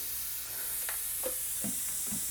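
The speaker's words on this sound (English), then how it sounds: "with the airbrush, it's easier to do a lot of shading faster" An airbrush sprays acrylic paint onto a custom helmet with a faint, steady airy hiss and a few soft, brief bursts, quiet and close with no voices.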